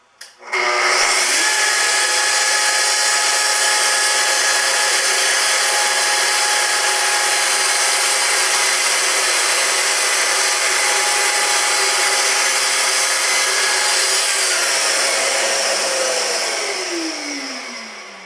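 A power saw trims the edge off a board run along a lightly clamped guide for a shop desk, giving a loud, steady whine for about fifteen seconds before it winds down.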